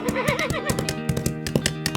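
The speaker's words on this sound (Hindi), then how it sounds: "घोड़ा हिनहिनाता है" Horse neighing, a loud wavering whinny with shaky pitch that carries over a steady rhythmic pulsing, close and prominent with no talking.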